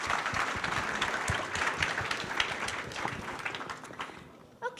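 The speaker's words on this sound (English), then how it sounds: "So a big round of applause for Blondine." A crowd at a game industry conference claps in sustained, dense applause that holds steady for several seconds, then thins and fades near the end.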